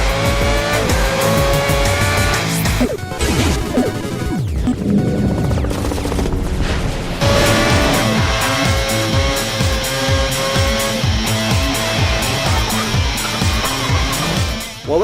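F1 2010 race cars scream past at full throttle in the video game, with high revving engines, gear changes and tyre squeal. The sound is loud, dense and continuous, with no talking.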